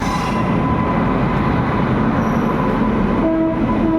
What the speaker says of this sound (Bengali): আমাদের ট্রেন কামরূপ এক্সপ্রেস দুরন্ত গতিতে ছুটছে